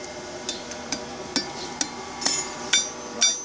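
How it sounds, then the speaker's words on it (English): A hammer striking hot steel while forging a fire steel, eight sharp ringing metallic blows at an even pace, close and clear. "Hammer it down, lower that hand a bit."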